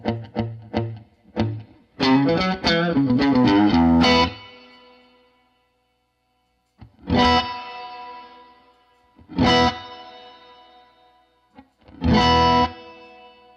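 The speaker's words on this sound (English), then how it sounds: "We'll get the mix a little lower and chase a spring reverb sound." An electric guitar runs through an MXR Reverb pedal set to spring reverb, with a burst of picked notes and chords followed by three separate struck chords, each ringing out into a long washy tail, loud and alone.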